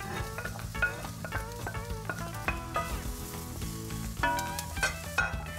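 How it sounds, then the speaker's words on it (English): Onions, carrots and garlic sauté in olive oil, a low steady sizzle running beneath tonal background music. "Now that our onions have softened, we'll add our carrots and the garlic."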